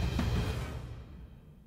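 Cinematic hit from Action Strikes drums layered with orchestral drums: one deep, booming impact that rolls off into a fading low rumble and reverb tail.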